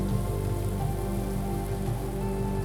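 Steady rain patters across surfaces in the video game Blue Prince, a dense, even hiss mixed with soft background music and no voices.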